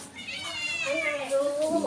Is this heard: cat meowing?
yes